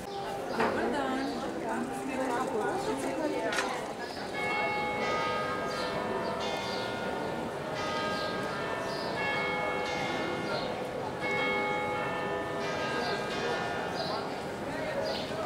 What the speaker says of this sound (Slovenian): Ura na zvoniku stolnice me je neprijetno opozorila, da moram domov